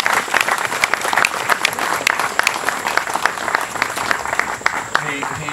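Audience applause at a Living Dead horror fan festival event, a steady dense wash of clapping from a crowd, loud and continuous with sharp individual claps standing out throughout.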